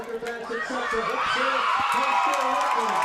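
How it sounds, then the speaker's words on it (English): A crowd at a high school varsity football game cheering and whooping at the final whistle, a loud sustained roar with shouting voices on top. "Listen to the crowd go wild."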